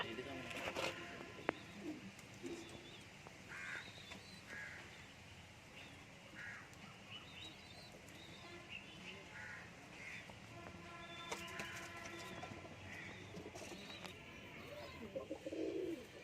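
Domestic pigeons kept in a loft with a newly laid egg coo softly amid a busy, continuous background of other birds and outdoor noise, with occasional low voices.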